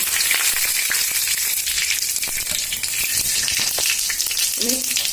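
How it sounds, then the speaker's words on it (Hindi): Cumin seeds, dried chili and bay leaf crackle and sizzle steadily in hot oil, a tempering for a jackfruit kofta masala, with a dense, continuous hiss of frying and scattered small pops throughout. "तेल हमार गर्म है। इमे ई फोरन दे छी, जीरा, मिर्च और तेज पत्ता।"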